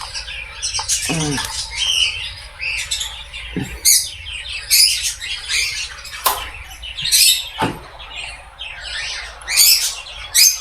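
Male king quail being released into an aviary colony, giving repeated squawks and chirps with short sweeping calls among other birds, near and moderately loud; no talking.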